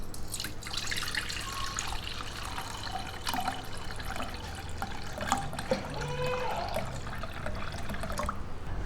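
Vegetable seeds are washed and strained in water, with steady splashing, trickling and dripping close by and occasional small clinks, continuing throughout without talk.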